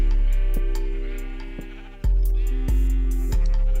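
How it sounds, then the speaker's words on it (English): Sheep in the Minecraft video game give several sharp, loud bleats in close succession, each one a short nasal cry spaced about half a second to a second apart, with no talk over them. "Excuse me, sheeps. That is very noisy."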